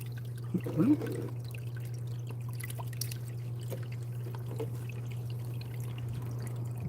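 Water poured out of a container outdoors beside open water, a short splashing pour in the first second, then fading into a steady low hum and faint background.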